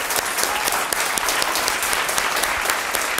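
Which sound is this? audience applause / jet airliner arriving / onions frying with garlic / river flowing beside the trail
audience applause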